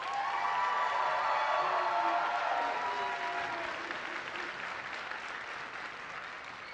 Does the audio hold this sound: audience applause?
yes